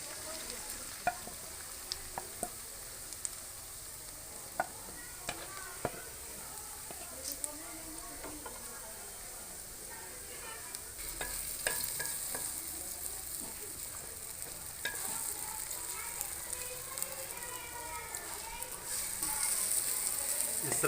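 Eggs sizzling and being stirred in a pan for fried rice, a steady close frying hiss with scattered ticks and scraping of the utensil, continuous and moderately quiet throughout.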